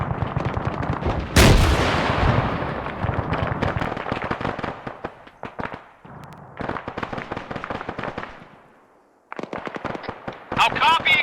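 Arma 3 combat: rapid bursts of gunfire and heavy artillery booms crackle densely, loud and close, with one big blast early on, and short pauses and radio-style voices break up the shooting.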